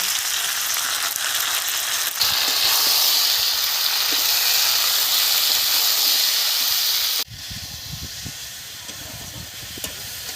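Spices for a Bengali rui fish curry fry in a pan with salt, turmeric, chopped tomato and cumin-ginger paste, giving a loud, dense, continuous sizzling hiss. About two-thirds through it drops abruptly to a quieter, rougher bubbling sizzle.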